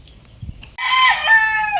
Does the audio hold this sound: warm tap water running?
no